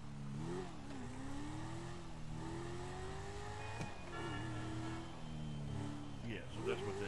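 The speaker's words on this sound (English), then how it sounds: "Pretty cool sound of the engine on one of my sports cars. This is the Coquette." The Coquette sports car in GTA 5 revs and accelerates, its engine note rising and falling through several gear pulls, moderately loud with a brief squeal near the end, and someone talks over it.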